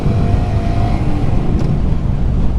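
A motorcycle engine runs under a rider through a gear change, a loud continuous drone whose pitch rises, drops and settles. A brief faint click partway through, with no talking.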